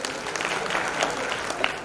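Audience applause at an event honoring a guest, a steady wash of clapping from a crowd with no talk, continuous throughout.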